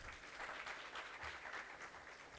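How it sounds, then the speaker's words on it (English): A seminar audience at an antimicrobial resistance awareness event gives a speaker a round of applause: continuous clapping from many hands, even and sustained, at moderate distance. "Let's give him another round of applause."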